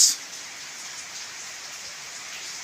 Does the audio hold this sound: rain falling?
yes